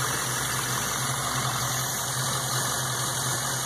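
A car engine running steadily with the throttle held open, a constant droning hum with a low rumble that stays even throughout, close and alone.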